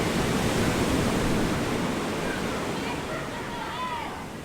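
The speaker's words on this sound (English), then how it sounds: "The sound of the ocean is amazing." Ocean waves on a coast in the Dominican Republic: a loud, steady broadband wash of surf filling the whole stretch, with faint chirping calls rising near the end.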